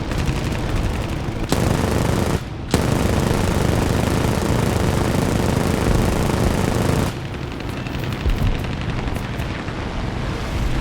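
Rapid machine-gun fire from an I-16 fighter in War Thunder air arcade, with long, dense continuous bursts and a brief pause, loud and unbroken over the engine drone.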